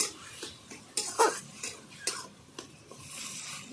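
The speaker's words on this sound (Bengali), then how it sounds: "কাঁচা আর পাকা একসঙ্গে মিশানো ভালো করে মিশিয়ে নেবো" Taro leaf curry with prawns being stirred as green chili paste is mixed in, giving scattered scraping and clinking of a spoon against the pot in short irregular strokes, fairly close and moderately quiet with no talking.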